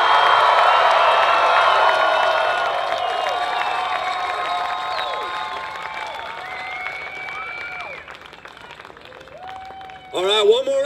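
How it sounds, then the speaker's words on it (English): Festival crowd applauding and cheering loudly at an outdoor Gleason Fest concert in Spokane, a dense sustained roar of clapping and shouts that gradually thins, then swells again near the end. "one more round of applause for Steve Gleason, everyone."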